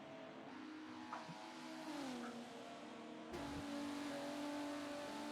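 Race cars circulate at Road America in a simulated esports race, engines droning and shifting pitch as they rev and pass, a steady faint mechanical whine throughout.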